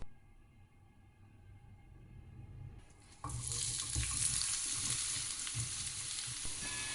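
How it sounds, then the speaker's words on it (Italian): Sliced Giarratana onions dropped into hot olive oil in a pan, a quiet hiss that jumps to a steady, bright sizzle and continues close and even. "In una padella scaldo dell'olio di oliva e aggiungo le cipolle."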